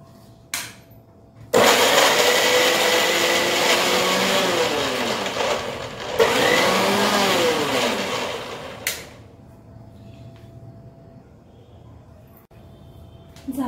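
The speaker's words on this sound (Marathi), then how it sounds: "मिक्सर लावून घेऊया आपण." A kitchen mixer grinder whirs loudly in two bursts of several seconds each, blending coriander and curry leaves for a vada pav filling, its high motor whine wavering under load before it cuts off into quiet.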